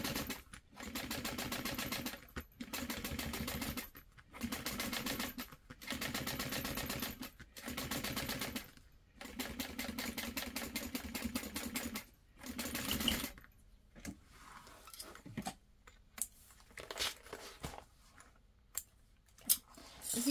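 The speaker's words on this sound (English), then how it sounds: "And then we're going to top stitch." A sewing machine top stitches a bag, running in loud, steady bursts of rapid whirring separated by short pauses, then giving way to quieter, scattered handling clicks near the end.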